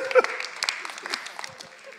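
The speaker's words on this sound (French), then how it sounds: "est-ce qu'on peut l'applaudir?" Brief audience applause during a church sermon, a short burst of clapping from a crowd indoors.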